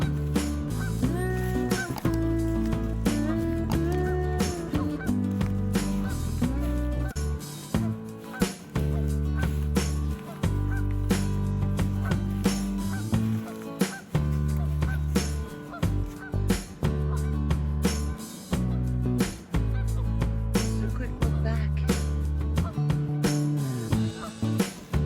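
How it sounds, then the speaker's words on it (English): Canada geese honking back and forth at a river fishing area, loud overlapping calls repeating in an irregular run with brief pauses, sounding close and continuous throughout. "Canada geese honking at each other."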